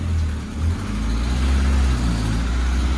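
A Mk2 Golf barn-find engine runs steadily at idle, a close, continuous low mechanical rumble with slight fluctuations and no talking.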